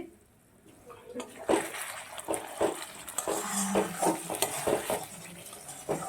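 Spice paste for Bengali rui fish kalia fries in oil while being stirred, with repeated scraping strokes over a continuous crackling sizzle that starts quietly and grows louder and busier.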